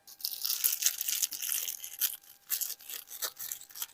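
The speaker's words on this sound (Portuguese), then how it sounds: "E quando o vasinho estiver sujo, é só pegar uma escovinha e escovar." Small brush scrubbing a dirty plant vase, a series of quick scratchy bristle strokes in short uneven bursts with brief gaps, close up and alone.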